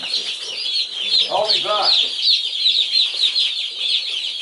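Young meat bird chicks crowd a box, their high, rapid peeping continuous and close throughout, while someone briefly speaks over them partway through.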